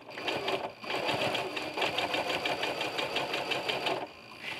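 A sewing machine with a walking foot stitches quilted curves, running as a fast, steady mechanical whir with a rapid needle pulse, close and continuous before easing off near the end.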